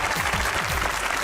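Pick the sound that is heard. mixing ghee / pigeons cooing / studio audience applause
studio audience applause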